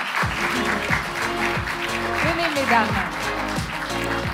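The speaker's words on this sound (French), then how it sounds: "On peut les applaudir." Audience applause for panelists at a French defence round table, moderate clapping running under a voice speaking over it and music playing in the background.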